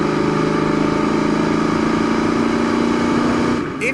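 A 1992 Ford Mustang GT with a 5-speed cruises at highway speed, its engine a loud, steady droning hum with road noise, fading slightly at the end.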